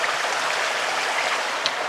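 A mountain stream flows steadily beside a bushcraft trail through dense vegetation, a continuous close broadband rush of water with no talking.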